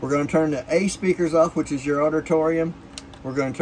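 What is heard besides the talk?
None of the usual background noises is heard.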